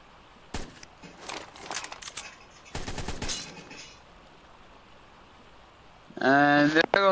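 Rifle gunfire in ARK: Survival Evolved, loud sharp shots and short bursts in the first half, then quiet, then a dense rattling burst near the end, with no voices heard.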